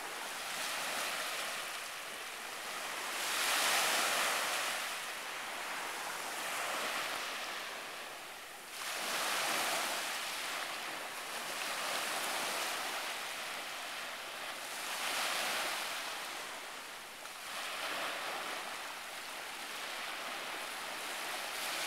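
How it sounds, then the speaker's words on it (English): Ocean surf at Palm Beach at sunrise rolls in as broad, steady washes of breaking waves that swell and fade every few seconds, with no voices. "Sending a sunrise Saturday morning view of the ocean here."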